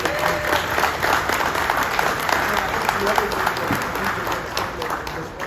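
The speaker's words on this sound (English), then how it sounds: "we do want to give Phil a round of applause just again, just for his leadership" Crowd applause at an outdoor groundbreaking ceremony, dense continuous clapping across the whole stretch with a busy wash of hands, moderately loud and steady, with a voice mixed into the noise.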